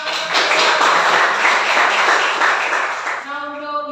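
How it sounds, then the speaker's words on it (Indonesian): Classroom of students clapping together in a steady, close burst of applause that fades after about three seconds into a brief voice. "Tepuk tangan."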